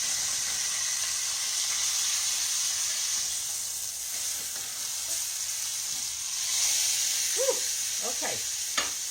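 A pork loin roast searing in a hot pan gives a steady bright sizzle throughout, with a few short scraping and stirring sounds near the end as the meat is turned.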